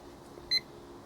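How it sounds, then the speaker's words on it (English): Single short electronic beep from a kitchen timer during homebrew beer wort boiling, brief and clear over a quiet background hum. "So let's start our timer."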